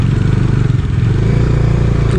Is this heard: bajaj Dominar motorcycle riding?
yes